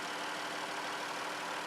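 A 2014 Dodge Journey R/T's 3.6-liter V6 idles steadily with a dense, even broadband hum, close and constant for the whole short stretch before cutting off abruptly.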